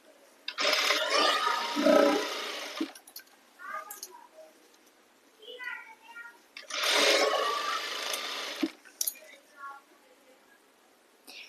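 A sewing machine stitches a full-size pant in two sustained bursts of whirring, separated by a quieter stretch of small handling clicks and rustles.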